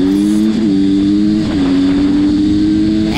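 A Husqvarna SM360 two-stroke motorcycle with an aftermarket exhaust revving close by, a loud buzzing engine drone whose pitch dips and climbs slightly as the throttle is blipped, continuous for a few seconds.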